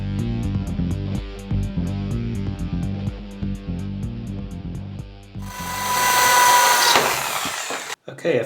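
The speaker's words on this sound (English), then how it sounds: "I will drill out these plugs and look inside." A power drill bores out the plugs of a Mul-T-Lock lock cylinder in a workshop. Music plays first, then a loud, harsh drilling burst of about one and a half seconds cuts in, followed by a short stop and restart.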